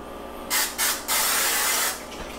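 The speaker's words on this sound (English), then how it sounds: "spray it with some nonstick spray" Three short bursts of nonstick cooking spray onto a hot waffle iron, then one longer hiss, close up and loud, ending with a faint tap.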